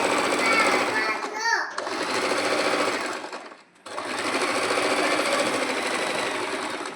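A sewing machine stitches a blouse in a loud, fast continuous whir close by, briefly pausing twice with a short squeak and a dip before the stitching resumes.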